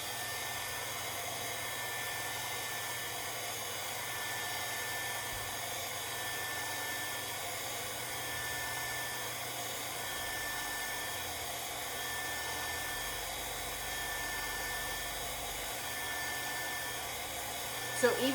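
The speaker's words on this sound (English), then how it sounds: "my heat gun will fix it, and it will thin it out and make it run" A heat gun blows hot air over thick epoxy coating a tumbler, producing a faint, even, continuous whooshing whine that runs unbroken for nearly twenty seconds.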